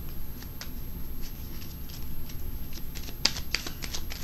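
Tarot cards are pulled and shuffled close up in a quiet room, with soft papery riffles and light taps, and a couple of sharper snaps near the end.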